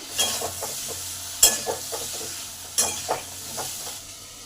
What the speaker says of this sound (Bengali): বারবার নেড়ে নেড়ে আলুটাকে ভেজে নেব